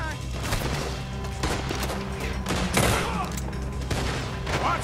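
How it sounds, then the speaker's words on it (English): A gunfire shootout in Red Dead Redemption 2, with a steady barrage of overlapping shots and battle noise throughout, several louder cracks standing out, and faint voices beneath. "Looks like we're shooting our way out of here, fellers!"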